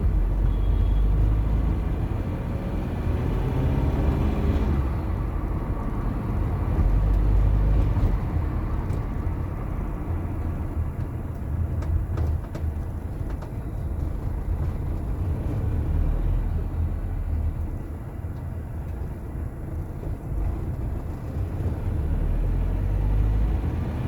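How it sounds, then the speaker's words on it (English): Diesel engine of a Toyota Innova 2.5G droning steadily inside the cabin while driving over a rough, potholed road, a continuous low rumble with occasional bumps and rattles and no talking. "You can actually hear a lot of the engine inside the cabin"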